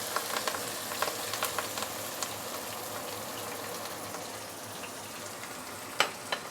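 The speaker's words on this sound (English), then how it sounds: "let's saute this for a minute or 2 before we continue" Fresh herbs and ginger sautéing in hot oil for Chinese curry chicken, a quiet continuous sizzle with scattered sharp pops and one louder spatter near the end, heard alone.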